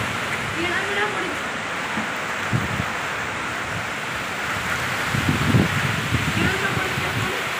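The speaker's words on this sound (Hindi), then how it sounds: "प्रबल वर्षा" Heavy rain with strong wind during a storm in Puri: a dense, steady roar of rain and gusts, with buffeting wind noise on the microphone and faint voices in the background.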